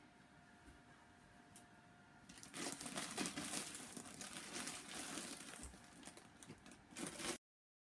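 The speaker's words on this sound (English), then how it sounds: "While you are stuffing it, make sure you get stuffing in the curves and all the way at the top" Fluffy filling pushed into a fabric stuffed toy makes soft close crinkling and rustling, starting quiet and then thickening into a busier, scrunchy stretch before cutting off.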